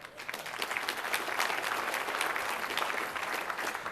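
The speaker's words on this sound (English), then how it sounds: "So I heard the applause starting," Audience applause from a crowd at a talk on modern C++ programming, a steady dense patter of many hands clapping at moderate volume, sustained for several seconds with no voices over it.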